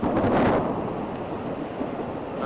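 Steady heavy rain pours down in Central California, with a broad rumble of thunder swelling near the start and then easing into a dense, continuous wash of falling water.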